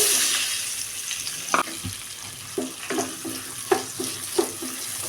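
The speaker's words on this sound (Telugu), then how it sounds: "ఇప్పుడు ఇదే ఆయిల్లో సన్నగా కట్ చేసి పెట్టుకున్న ఒక కప్పు ఉల్లిపాయలను యాడ్ చేసుకోవాలి" Sliced onions, about a cup, sizzle in hot oil for a dhaba-style paneer curry, a steady broadband hiss with a few sharp clacks from stirring scattered through, close and fairly loud with no talking.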